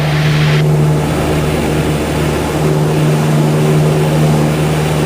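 A small airplane's propeller engine drones loud and steady during the takeoff roll, with a strong constant hum and no talk heard.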